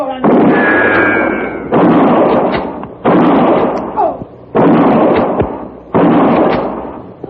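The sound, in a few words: gunfire sound effect in radio drama shootout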